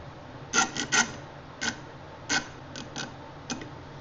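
Clamps with spinny handles are tightened on a wooden planter box, giving a series of short ratcheting clicks and rasps at an uneven pace, close and moderately loud, with no talking.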